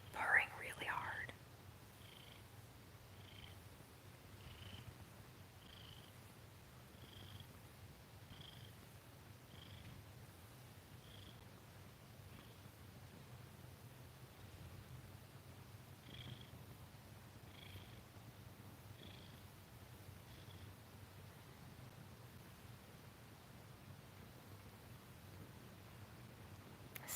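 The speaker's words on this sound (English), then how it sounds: "he's purring really hard" A pet cat purrs softly and continuously near the microphone in a quiet home kitchen, a low steady rumble, with faint rhythmic breathy ticks running through it.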